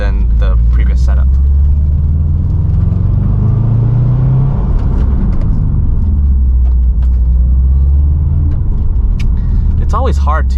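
A Subaru WRX STI S209 with Endless two-piece rotors and MX7 pads drives to bed in new brake pads, its engine a loud continuous rumble rising and falling in pitch, with a voice talking briefly at the start and end.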